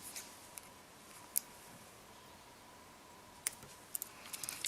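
Scissors snip beading thread in a few faint, sharp clicks spread over a quiet background, with a couple of closer snips near the end.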